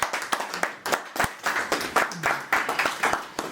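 Guests at a dowry dinner clap in quick, uneven bursts of applause, close and lively, with some voices mixed in.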